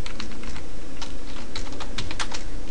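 Rapid typing on a computer keyboard during a programming lesson, clacking keystrokes in short irregular bursts, close and clear over a steady low background hum with no talking.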